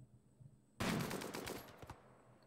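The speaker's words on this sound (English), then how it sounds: "We'll let him shoot it real quick." A Rimworld colonist fires at an insect hive, a quick close burst of several shots over about a second following near silence.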